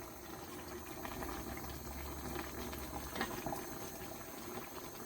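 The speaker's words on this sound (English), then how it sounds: "Then I will sieve the banga in there." Banga (palm nut) soup liquid pours through a sieve as a continuous, soft, bubbling trickle of liquid, steady and fairly faint throughout, with no voices.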